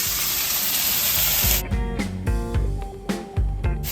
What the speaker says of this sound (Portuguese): Então a gente vai fritar bem ele